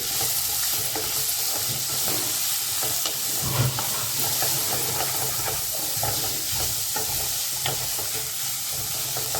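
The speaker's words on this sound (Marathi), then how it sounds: "तर व्यवस्थित परतून घ्यायचं कांदा पण" Chopped onion fries in a hot pan for a soybean masala, with a steady close sizzle and repeated scraping stirs of a spoon running through it.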